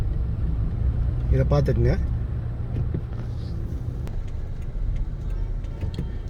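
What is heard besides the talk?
heavy road traffic near a hotel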